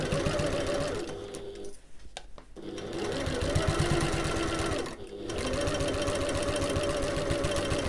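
A sewing machine back stitching at the start of a backpack seam hums in a steady fast stitching drone, breaks off briefly twice, then starts up again loud and close.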